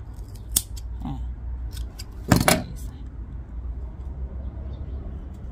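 Scissors cut a Cattleya orchid, likely Cattleya labiata rubra, trimming a tangled new shoot or bulb: a few crisp snips, one sharp click early and a louder crunching cut midway, close up over faint background hum.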